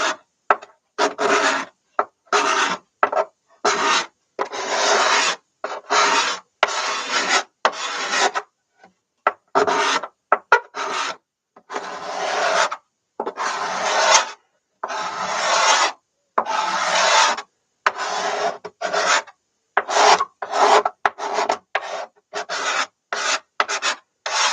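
Steel scraper being sharpened for a cello rebuild, rapid rasping file strokes in short bursts separated by brief pauses, close and fairly loud, with no talking.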